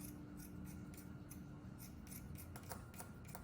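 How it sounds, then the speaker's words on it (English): Scissors snip through T-shirt fabric to cut strings for a no-sew face mask, a steady run of close, crisp cuts repeating in quick rhythm. "I'm going to cut out my strings"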